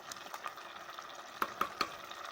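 Base for vermicelli soup frying in a pot, a faint, steady sizzle with a few sharp crackles and stirring clicks, quiet and close, with no voices.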